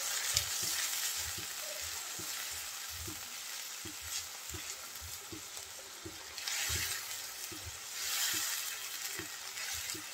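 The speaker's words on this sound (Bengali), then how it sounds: "লবণ, ধনিয়ার গুঁড়া, হলুদ গুঁড়া, নেড়ে চেড়ে একটু কষিয়ে নেব।" Salt, coriander powder and turmeric powder being stir-fried in a pan for a prawn and spinach dish, a continuous sizzle broken by regular scraping stirs of a spatula, close up and without voices.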